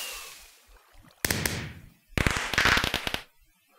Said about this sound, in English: So that's your firework.